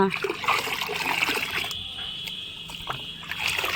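Homemade organic liquid fertilizer poured straight onto plant soil, a short close splashing trickle that thins out and then picks up again near the end.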